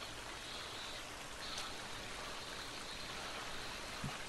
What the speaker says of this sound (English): there's like a stream up here, I'm pretty sure.